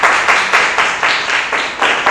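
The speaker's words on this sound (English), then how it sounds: "give me a round of applause." An audience gives a round of applause at a team-building session, with steady, dense clapping from many hands swelling in short repeating waves, close and fairly loud, with no voices over it.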